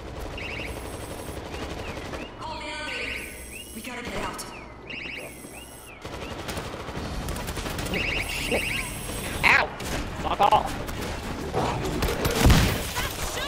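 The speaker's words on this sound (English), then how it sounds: "Stop shooting!" Video game gunfire, with turrets and weapons firing in rapid automatic bursts and scattered single shots that grow louder and denser toward the end, set against a steady in-game background hum.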